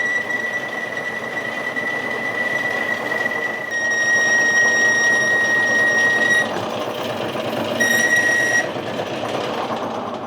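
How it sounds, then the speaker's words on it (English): A lathe boring an aluminium microlight propeller spacer with a boring bar, giving a loud, steady high-pitched chattering squeal that runs for several seconds, stops, then returns briefly. "Do with a better boring bar that would chip aluminium."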